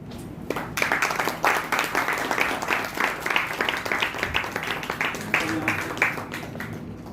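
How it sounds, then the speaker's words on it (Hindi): A crowd claps steadily for several seconds, a dense run of hand claps that swells briefly and then carries on evenly. "आप लोगों ने खुद से तालियां बजाई इसके लिए"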